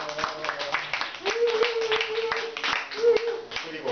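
A small audience at a monthly mental-health lecture claps in scattered, uneven bursts while a voice carries on over the clapping.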